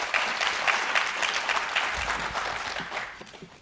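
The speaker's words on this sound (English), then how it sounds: "let's give everybody a round warm of applause" An audience at a university public lecture applauds warmly, a dense sustained patter of many hands clapping that fades slightly toward the end, with no speech on top.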